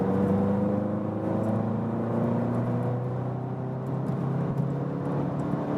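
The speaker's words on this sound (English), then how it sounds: "we can have another acceleration when we are already at speed" VW Golf GTI Clubsport in sport mode pulling hard from 90 km/h, a steady in-cabin engine drone with rising tones as it climbs through the gears over constant road roar.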